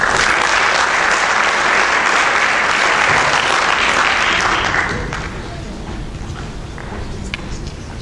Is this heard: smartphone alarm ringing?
no